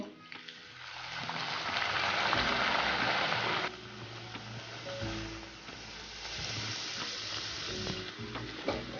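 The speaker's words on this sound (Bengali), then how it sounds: "তেল খুব ভালোভাবে গরম হয়ে এসছে। আমি এর মধ্যে বেলে রাখা কচুরিটা দিয়ে দেব।" Pea-stuffed kachori frying in hot oil in a wok, a loud, dense sizzle that swells for the first few seconds, then settles into a lower, steady crackle with occasional stirring scrapes.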